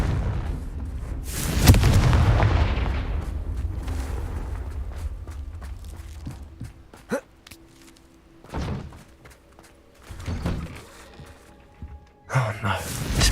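A loud, booming Confringo spell blast in Hogwarts Legacy, a heavy explosion with a long rumbling decay, followed by scattered thuds, footsteps and smaller impacts.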